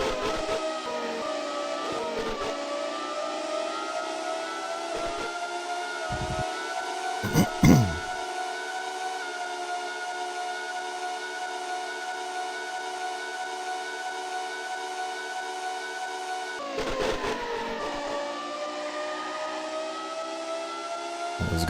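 A high-revving 1996-era Formula One engine in the F1 Racing Simulation game holds a sustained loud whine at throttle, broken by a few brief shift blips and lifts.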